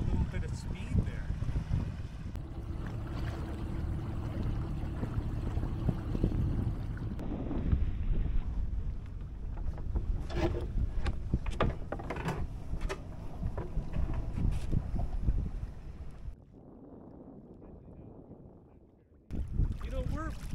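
A sailboat running about 45 degrees off the wind cuts through the water with steady rushing and splashing, wind buffeting the microphone, and people talking over it before the sound drops away briefly near the end.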